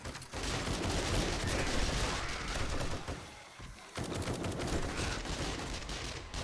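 Rapid sustained gunfire against zombies in the game 7 Days to Die, loud dense bursts of automatic shots filling most of the stretch with a short pause midway before the firing resumes.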